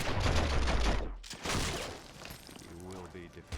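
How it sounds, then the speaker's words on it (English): Gunfire in the PC game The Matrix: Path of Neo, a dense burst of shots in the first second, then a rougher volley, with someone talking over the action. "Would you at least duck as the bullets fly by?"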